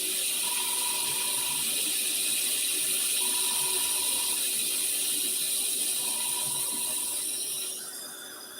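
A tap runs steadily for rinsing, a constant close hiss of flowing water that fills the whole stretch and tapers off slightly at the very end.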